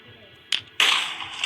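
Two sharp broadband bursts, a short crack followed by a louder, longer blast that fades slowly, from fast TNT exploding in a video game.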